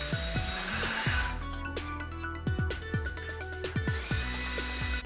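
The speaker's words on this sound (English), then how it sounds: "so it leaves a clean hole on the other side when I drill through" A power drill bores through wood held in a Kreg hardware jig clamped to a backer board, with whirring runs broken by bursts of chips, loud and near, under background music.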